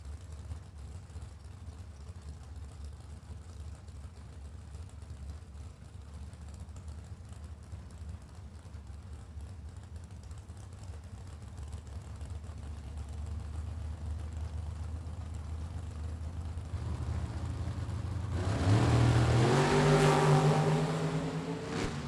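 A drag racing roadster from Bob's Profab at a Super Pro event, its engine droning steadily before surging into a loud, rising rev near the end as it accelerates.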